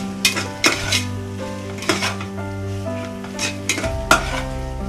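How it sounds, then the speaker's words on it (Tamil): A vegetable biryani mixture with mint is stirred in a metal pan: close, repeated scraping strokes and spoon clanks in an uneven rhythm, with a steady low hum underneath and no talking. "ரெண்டையும் சேர்த்து நல்ல ஒரு கலர் கலக்கணும்."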